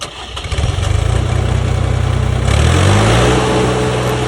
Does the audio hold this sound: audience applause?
no